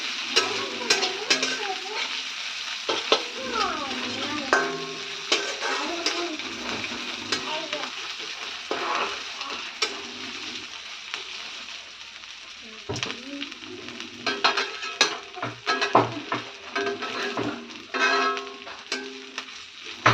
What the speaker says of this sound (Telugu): కొద్దిగా ఆకు వేగనివ్వాలి.